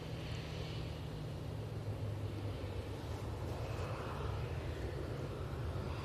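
An EasyJet airliner taxiing at Manchester Airport gives a steady, distant engine rumble and whine, with a low constant drone and some wind noise throughout, no voices.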